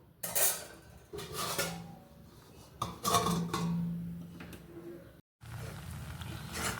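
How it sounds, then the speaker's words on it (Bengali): A metal pot of paneer pulao rice is covered with its lid to boil on a high flame, giving close, intermittent metallic clanks and clinks with short pauses and a brief moment of silence. "এবারে হাই ফ্লেমে আমি ঢাকা দিয়ে ফুটিয়ে নেব।"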